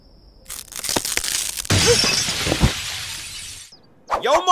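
A glass wall breaks, with a sustained loud shatter and crash of falling pieces for about two seconds, followed by a short silence and then a voice starting to speak.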